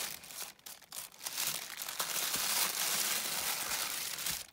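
A small gift package being carefully unwrapped without tearing, with close, continuous crinkling and rustling of wrapping paper that grows denser and louder after the first couple of seconds.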